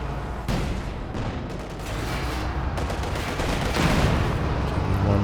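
Anti-tank guns firing in Company of Heroes 2 as a Panther pushes forward, a dense battle mix of booming shots and overlapping gunfire rumbling continuously, steady and fairly loud with no speech.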